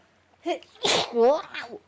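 A single sharp sneeze bursts out, nearby and fairly loud, with a brief breathy intake before it and a short vocal sound after.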